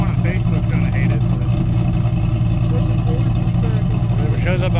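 A 2007 Ford Shelby GT500 fitted with cams, Kooks long tube headers, an X-pipe and stock mufflers rumbles loudly up close, its deep exhaust note holding steady with slight rises in revs.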